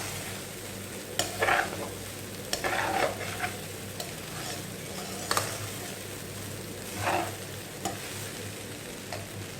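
Egg fried rice being stirred and tossed in a hot pan, a soft continuous sizzle with occasional louder scraping strokes of the spatula at irregular intervals.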